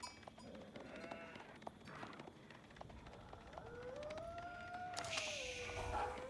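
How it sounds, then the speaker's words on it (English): Sheep bleating in a strategy video game, several wavering calls over a busy game-sound background, growing louder toward the end. "So we're finding at least a couple of wolves and sheep."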